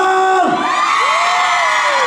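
A concert crowd at an outdoor show screams and cheers loudly, with high whoops and shrill yells over a roaring wash of voices, sustained throughout.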